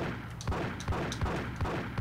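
Repeated gunshots from the Liberty City crime game GTA: Chinatown Wars, a steady run of sharp pops roughly every third of a second with a low thud under each, loud and without talk.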